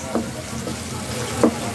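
Spices sizzle and fry steadily in a pan for a spicy chicken kosha, a close continuous hiss with a couple of brief stirring scrapes and no voices.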